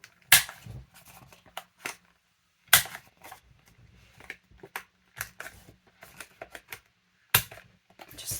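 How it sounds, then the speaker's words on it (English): A corner rounder punch cuts the corners of book page paper, giving several sharp, close clicks and snaps spaced unevenly, with quieter handling rustles between them. "I think I'm going to round the corners on that."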